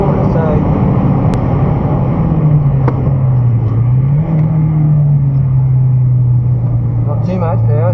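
A race car's engine drones at steady high load while lapping Broadford race track in fourth gear, its pitch dipping and rising slightly, loud and constant under a driving instructor's talk.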